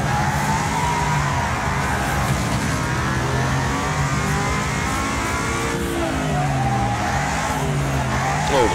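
Race cars in the Wreckfest video game, engines roaring and revving loudly with pitch sweeps as one car breaks loose, tires squealing and skidding amid a pack of other cars.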